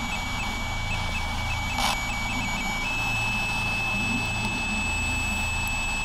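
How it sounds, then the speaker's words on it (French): Thin high-pitched electronic tones from a ghost-hunting device hold steadily over a low rumbling background in an old cemetery, with a brief burst of noise near the start and no talking. "c'est un bip pour dire oui et plusieurs bips pour dire non"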